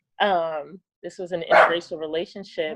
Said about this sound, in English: Excuse my dog, my little dog barking.